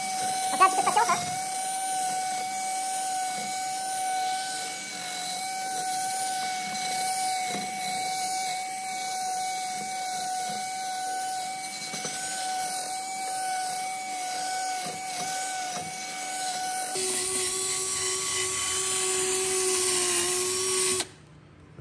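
A power sander grinds continuously over a Renault Twingo's body with coarse-grit sandpaper, its motor whine holding steady before its pitch drops for the final stretch and cuts out.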